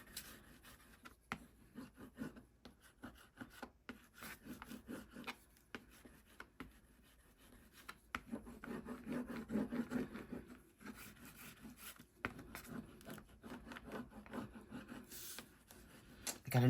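A palette knife scrapes across a gel plate coated with paint, giving soft close rasping strokes in an uneven rhythm, quiet overall and louder toward the end.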